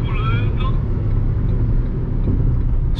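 A Ford Ka Sedan SE 1.5 with a manual gearbox cruising on a highway, its low, steady engine and road drone filling the cabin while someone talks briefly at the start.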